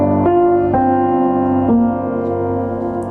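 A guitar riff from a song rings out over a sustained chord with bass underneath, a few plucked note changes landing as the harmony shifts, steady and fairly loud with no voices.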